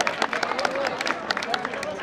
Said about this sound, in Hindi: मैं उनके लिए जोरदार तालियां